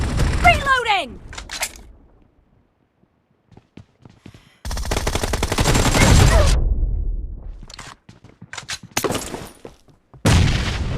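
Gunfire in the mobile game PUBG Mobile, with loud bursts of shotgun and automatic fire separated by brief quiet gaps, alongside game announcer voice lines.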